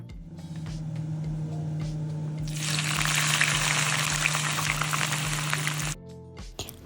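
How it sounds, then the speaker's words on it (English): Onions frying in hot oil for mutton biryani, a steady broadband sizzle that surges loud around the third second and holds, over a constant low hum, then cuts off near the end. "And fry your onions."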